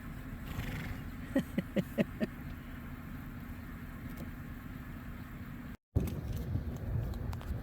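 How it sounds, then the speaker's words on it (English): Horses nicker softly several times in a short run of low, fluttering calls, set against steady outdoor rumble with a faint engine, in Alaska. "Oh, you can even hear them nickering."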